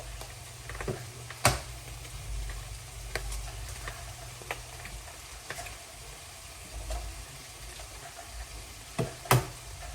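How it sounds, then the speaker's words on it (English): Eggs fry in a pan with a soft, steady sizzle, broken by occasional sharp clicks and knocks from utensils against the pan. "I'm gonna let the eggs fry"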